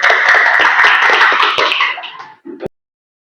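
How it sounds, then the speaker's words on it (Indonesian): A classroom of students claps for the winning group, a dense, close burst of many hands applauding that fades out after about two seconds and ends with a few last scattered claps. "Oke, tepuk tangan dulu."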